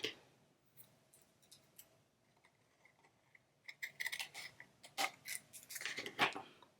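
Scissors cutting paper for a handmade valentine card, a few faint snips at first, then a denser run of crisp close cuts and rustling paper toward the end, with no talking.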